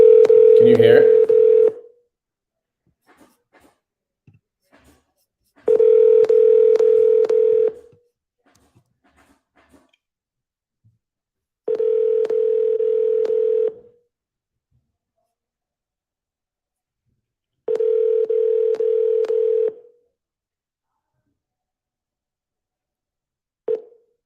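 Telephone dialing and ringing while calling a seller: an opening burst of touch-tone dialing, then four evenly spaced long ringback tones about every six seconds, loud and clear with quiet gaps between.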